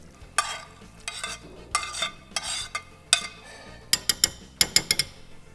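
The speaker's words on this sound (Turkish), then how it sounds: "Şöyle bir karıştıralım." Fish soup is stirred in a pot: a spoon scrapes and swishes in uneven strokes, ending in a quick series of sharp metallic taps against the rim, close and without talk.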